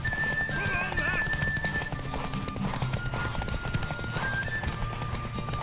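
A horse gallops in The Witcher 3, with fast, continuous hoofbeats and a whinny up front in a loud, busy game mix, while character voices and music run underneath.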